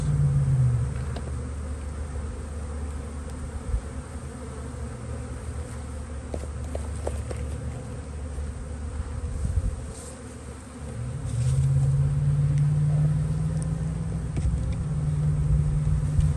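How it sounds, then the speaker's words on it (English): Honeybees hum inside a winter hive box in Southern California, a weak colony with very few bees left. The steady, low, close drone holds for the whole stretch, dipping briefly near the middle before swelling back. "So very, very little bees up in this box."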